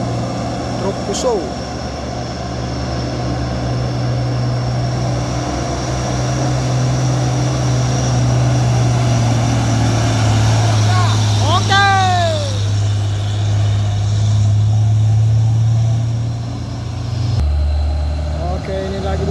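A Mitsubishi Fuso truck engine drones loudly and steadily while climbing uphill, with a deep sustained rumble and gear shifts in the low end, passing nearby alongside other traffic.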